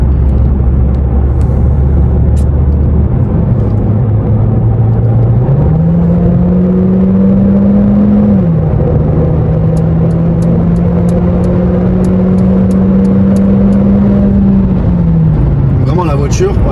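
A Mercedes CLA 250e hybrid accelerating through the gears while merging onto a road, a steady engine drone rising in pitch, dropping at a gear change and climbing again, under constant road and cabin rumble.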